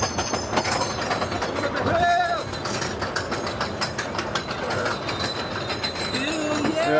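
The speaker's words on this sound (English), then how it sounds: "this is a Dahlonega Mine Train. Yeah. Old school Arrow mine train." Vintage Arrow mine train roller coaster, the Dahlonega Mine Train at Six Flags Over Georgia, rumbling along its track with steady clattering and a brief wheel squeal, amid crowd noise and voices throughout.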